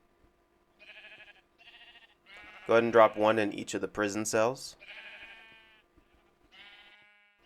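Sheep in Minecraft bleat in short repeated calls, several spaced across the stretch, with someone talking over the middle.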